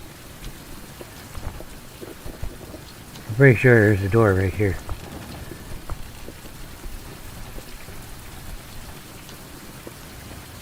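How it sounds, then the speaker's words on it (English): Steady rain hisses evenly throughout a survival video game, with a player briefly talking over it midway. "It's raining."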